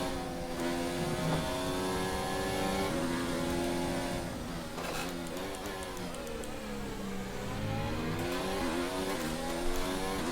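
Formula 1 race car in an F1 esports video game, its high engine note rising and falling steadily as it laps a circuit, gear changes and revs continuous throughout with no talk.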